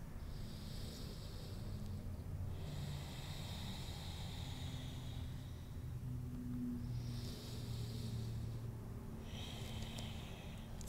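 Deep yoga breaths blown into cupped palms during a Katonah yoga practice: a soft, airy rush rising and fading in four slow, evenly spaced exhalations, close and alone over a low background hum.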